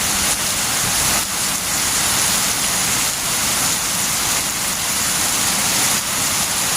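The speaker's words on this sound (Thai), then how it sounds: "มาทั้งลมทั้งฝนทั้งเสียงเลยค่ะทุกคนมาครบเลยรอบนี้" Heavy rain driven by wind in a dark downpour, a loud continuous roar of falling water with slow surges and swells in intensity, steady throughout with no talking.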